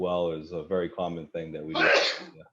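A person sneezes loudly near the end of a brief stretch of talk at a town select board meeting, a short noisy burst following a man's speech.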